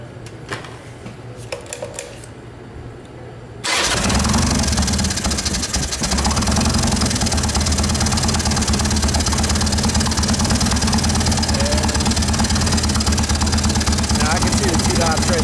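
A Harley-Davidson Evo motorcycle engine, warmed for ignition timing work, starts up and settles into a loud, steady idle with a lumpy pulsing beat. It is close and continuous, with quieter talk and shop noise before it catches.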